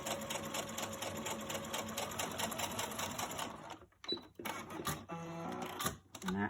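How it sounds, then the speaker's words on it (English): A sewing machine sews down elastic and pleats, running in a steady mechanical whir before stopping and restarting in short bursts toward the end. "So now we're sewing down the elastic and the pleats"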